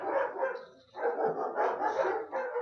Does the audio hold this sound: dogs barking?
yes